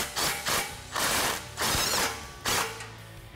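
A ratchet cranks exhaust clamp nuts on a Ford F-150 Raptor cat-back exhaust in four or five short bursts of rapid clicking, close and loud, with brief pauses between strokes.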